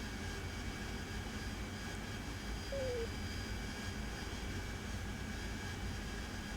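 Harrier jet in the DCS flight simulator flying toward an aerial tanker, a steady broadband engine roar holding constant and unbroken throughout.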